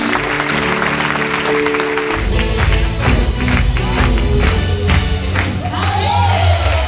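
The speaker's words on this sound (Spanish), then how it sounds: "Dale un aplauso a Jesús" A church congregation bursts into applause for Jesus at a youth gathering, sustained clapping from a crowd with a few shouts and whoops mixed in, loud and close after music and talk fade.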